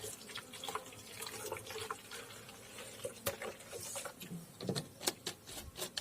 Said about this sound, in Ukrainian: беремо водичку вимиваємо